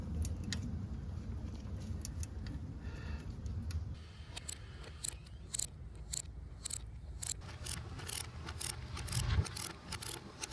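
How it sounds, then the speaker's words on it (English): Clicking ratchet and metal tool clatter from a 10mm ratchet wrench working the lower power steering pump bolt on a four-cylinder Ford Ranger, a steady low mechanical rumble underneath, then sharper irregular clicks and taps close up. "that is where the 10mm ratchet wrench comes in handy"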